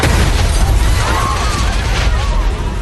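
A small staged explosion in amateur-style action footage: a loud, sustained rumbling boom with dense low-end roar and crackling debris across the whole stretch, with no clear separate bursts.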